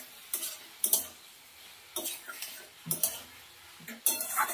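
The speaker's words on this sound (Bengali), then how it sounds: "ভালো করে নাড়াচাড়া করে দিই।" A spoon scrapes and stirs morola fish curry with tomatoes in a pan over low gas, in irregular clinking strokes with faint sizzling between them and no talk.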